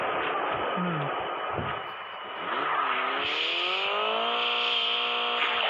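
A vehicle engine revs in Call of Duty, a rising, sustained motor drone that climbs in pitch and holds, loud and close, with brief game effects at the start and no talk.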